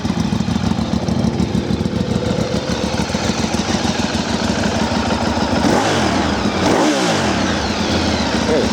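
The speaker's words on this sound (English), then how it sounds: "Quick revving bike." A Ducati 848 EVO Corse SE motorcycle engine idles with a loud, close, throbbing exhaust beat, then is revved quickly twice near the end, each rev rising and falling sharply.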